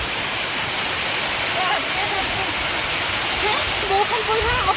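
Steady rain pours down in a dense, even hiss that fills the whole stretch, with a faint voice or bird-like calls rising over it near the end.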